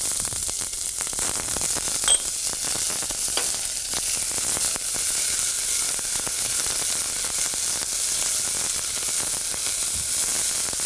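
Carrots and onions sizzle steadily in a hot pan while being browned for an espagnole sauce, a continuous close crackling hiss with faint clicks and no voices.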